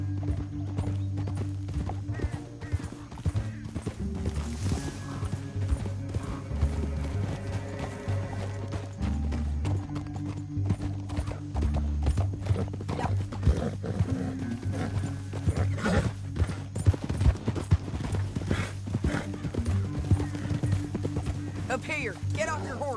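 Horse hooves gallop in a steady clip-clop rhythm in the video game Red Dead Redemption 2, continuing throughout under spoken character dialogue and background music.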